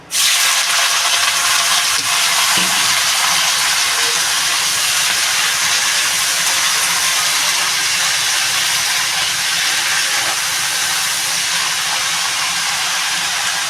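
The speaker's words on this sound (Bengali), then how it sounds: "আমি এবারে যে বেগুন পালং শাক মটর এটা আমি একসঙ্গেই ঢেলে দেবো" Eggplant, spinach and peas hit a hot pan with black cumin seeds, and a loud, dense sizzling hiss starts at once. It holds steady and unbroken from start to finish.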